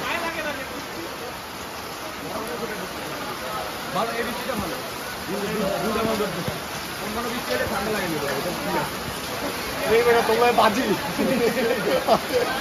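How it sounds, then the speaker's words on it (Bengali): Rain pours steadily during a storm, a dense hiss of falling water that rises and falls in gusts, with people talking and exclaiming over it close by throughout. "প্রশান্তের বৃষ্টি।"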